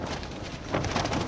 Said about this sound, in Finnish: Ripeksii vettä ja tuulee ihan törkeästi.